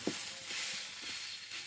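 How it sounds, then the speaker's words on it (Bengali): Fish and onions frying in a pan give a steady, close hiss of sizzling oil, with a few faint stirring clicks over the short stretch. "মাছগুলো দিয়ে দিলাম ভাজা, মাছ পেঁয়াজ সবকিছু দিয়ে দিলাম। এখন একটু ভেজে নই"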